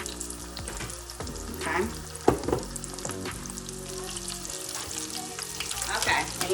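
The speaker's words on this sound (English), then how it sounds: "So batter, coat with your breadcrumbs, and place it in the grease." Breaded onion rings fry in hot grease with a steady crackling sizzle, punctuated by louder bubbling pops as pieces go in; a voice speaks briefly over the frying.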